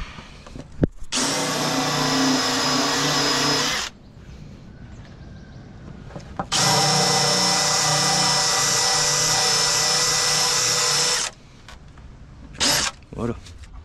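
A drill fitted with a countersink bit bores into an oak board in two loud, sustained whining bursts separated by a pause, followed by brief short spins and faint handling noises.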